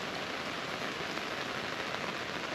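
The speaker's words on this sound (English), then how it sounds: "there's no letting up with the rain" Steady rain patters densely on a sunshade with holes in it, a continuous even hiss of drops with no voices.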